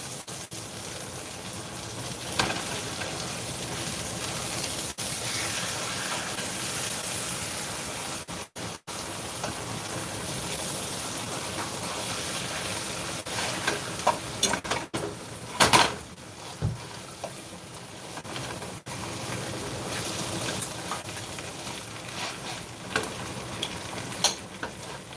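Liver and onions fry in butter in a pan with a steady close sizzle, broken by a few brief clanks and stirring sounds and one short pause.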